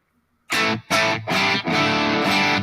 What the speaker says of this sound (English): That's me turning the master down, and you're losing the phase inverter distortion as well as the power tube stuff.